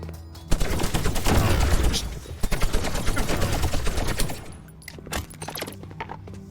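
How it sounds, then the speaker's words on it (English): Rapid bursts of gunfire in Relic Odyssey pelt the player, dense crackling volleys for several seconds that thin out to scattered shots near the end. "What is shooting at me?"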